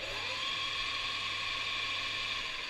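A metal lathe runs at its top speed setting while cutting brass, giving a steady, loud mechanical whine with a constant high hum and faint gear chatter throughout, no talking.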